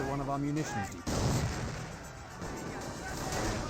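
Rifle grenades and gunfire in Company of Heroes: a sharp, close blast cuts through a voice, followed by a scatter of crackling shots and rumbling explosions as the talk continues.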